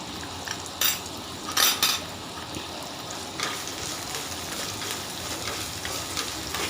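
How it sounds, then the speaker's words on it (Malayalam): Anchovies sautéing in a pan with salt, a steady sizzle broken by a few sharp scrapes and clinks of a utensil stirring against the pan. "നന്നായിട്ടൊന്ന് വഴറ്റി കൊടുക്കുക"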